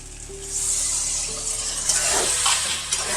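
Water from rinsing the spice bowl poured into hot, well-fried masala for chana paneer in a pan, giving a broad steady sizzle and hiss that swells over about three seconds, close and fairly loud with no voices.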